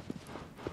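Hooves of a horse clip-clop in the video game Shadow of the Colossus, a few soft, evenly spaced thuds at a walking pace, faint and alone.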